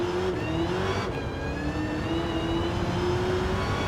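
A Dodge Challenger SRT Demon at full throttle on the Nürburgring in Gran Turismo 7, traction control off, its engine droning steadily and climbing slowly in pitch as it pulls hard in fifth gear from low revs.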